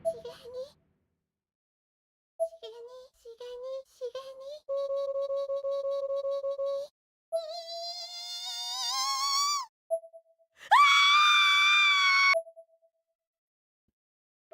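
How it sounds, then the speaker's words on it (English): A female ghost in the horror video game Corpse Party Blood Drive lets out a loud, piercing screech in several bursts, the last rising to a shrill peak amid short eerie tones and pauses of silence. "That loud screech"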